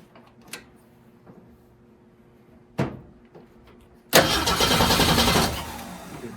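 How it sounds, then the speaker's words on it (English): An engine fitted with a rebuilt Carter one-barrel carburetor is cranked with the choke set, giving a couple of brief turning bursts and then a loud rough catch that runs about a second before fading. "Let's set the choke and see if it'll fire with the choke."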